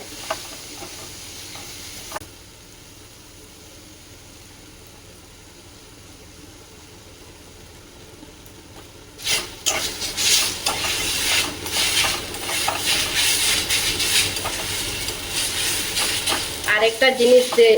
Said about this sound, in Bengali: একটু নাড়াচാড়া করে নেব আর তেল একদম অল্প দিয়েছি শুকনো শুকনো হয়ে যাবে